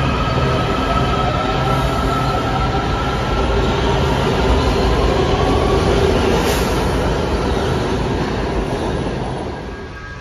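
DC Metro train running on a shared rail section, a loud continuous rumble of wheels and motor with a steady roar, fading slightly near the end.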